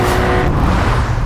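A new Porsche 911 launches hard from a standstill, its engine roaring loud and close with a dense, steady rasp throughout, no pause or fade across the short burst.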